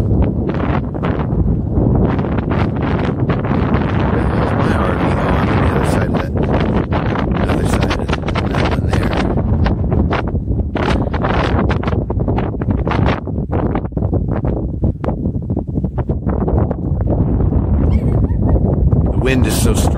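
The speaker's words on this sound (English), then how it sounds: "it is very windy right now down here at the auxiliary dam" Strong wind buffets the microphone at a lakeside auxiliary dam, a loud, constant roar with gusty bursts throughout, and a person talks over it.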